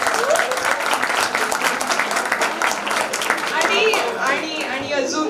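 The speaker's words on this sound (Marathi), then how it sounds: "सो प्लीज सरांसाठी एकदा टाळ्या झाल्या पाहिजे प्लीज." An audience claps steadily for a tutor at a student tutorial's annual function in 2025, dense applause mixed with crowd chatter and occasional cheers, fairly loud and continuous throughout.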